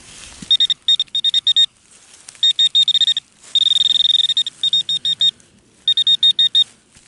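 A metal detector signals over a buried target outdoors with bursts of rapid, loud, high-pitched beeps. The beeps come in clusters separated by brief pauses.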